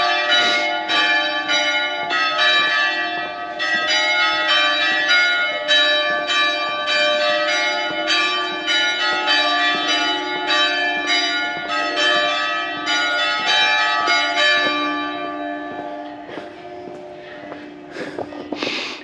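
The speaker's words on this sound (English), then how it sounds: "as those bells just told you" Church bells ring steadily and loudly in an Italian town square in Brescia, with sustained, overlapping peals that keep going before fading near the end, and street ambience underneath.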